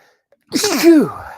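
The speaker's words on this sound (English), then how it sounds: "About to sneeze." One sharp, loud sneeze close to the listener, a quick intake followed by a forceful burst, alone in otherwise quiet surroundings.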